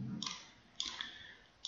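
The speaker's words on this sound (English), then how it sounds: "So I'm going to click on Customers" Three crisp computer mouse clicks, spaced apart and close by, with quiet room tone between them and no voices.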